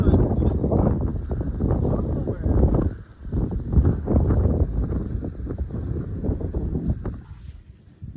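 Strong gusting wind on a fishing pier in Skarnsundet, Norway, buffets the microphone in loud, rumbling bursts, dipping briefly before surging again.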